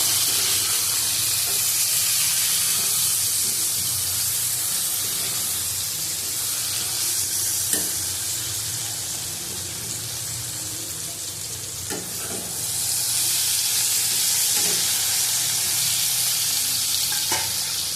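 Okra and potatoes with turmeric fry in a pan with a steady, close sizzle and hiss throughout, broken by a few sharp clicks of stirring, with no talk.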